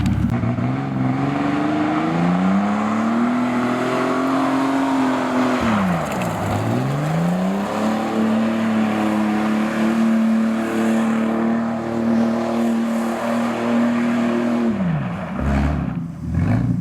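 A Ford AU Falcon engine revs loud and close, climbing in pitch as the car accelerates on dirt, dropping briefly near the middle and again toward the end as it shifts or lifts off, with no talking.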